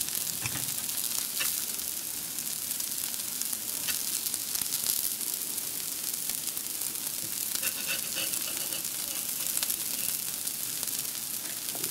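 Dosa batter fries on a hot griddle with a steady, continuous sizzle that stays loud and close throughout, broken by a few faint scraping taps of a ladle.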